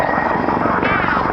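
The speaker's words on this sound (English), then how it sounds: "they're using a decelerating turn to bring that helicopter into a hover right here at Show Center." An RCAF CH-146 Griffon helicopter slows through a decelerating turn into a hover at an airshow, its loud, close rotor thrum and turbine whine steady and dominant.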